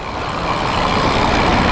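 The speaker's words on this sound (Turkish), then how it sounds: "Her yer otobüs dolmuş, taksi." Dense midday city traffic of buses, minibuses and taxis rumbles as a steady, loud wash of engines and road noise, heard by a cyclist riding through it.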